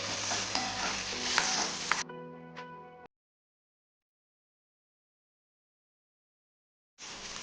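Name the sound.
tindora and green chillies cooking in a pan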